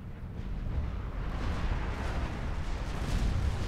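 A unit detonating in a real-time strategy game match sends out a deep, rumbling explosion, a broad low roar that swells and holds steadily loud, with artillery-like booms blending together and no voices over it.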